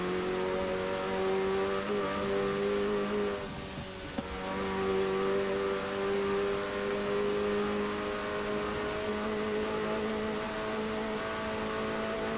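McLaren 720S Spider supercar engine in Forza Horizon 4, a steady loud mid-range drone with sustained harmonic tones held at speed on back roads, briefly dipping around the middle before resuming.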